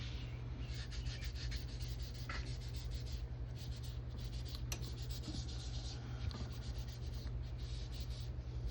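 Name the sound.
rubbing a comic book with a magic eraser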